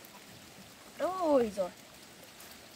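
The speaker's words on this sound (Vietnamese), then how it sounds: "ôi mưa đây, ở nhà đi." Rain falls in a steady, soft background hiss throughout, with a brief spoken exclamation over it midway.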